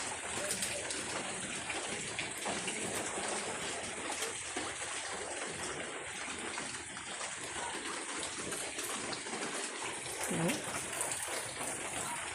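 Heavy rain pours steadily in a dense, continuous hiss of water, fairly faint overall, unbroken for the whole stretch.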